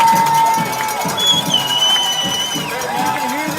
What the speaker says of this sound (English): You can hear this crowd getting rowdy on third down.